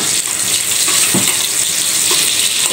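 Garlic and onion sauté in a hot pan, a loud, steady sizzle and hiss with a few soft stirring knocks, close up and with no talking.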